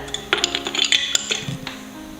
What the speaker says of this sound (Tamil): 2-3 ஐஸ் க்யூப்ஸையும் சேர்த்து கொடுக்குறேன்.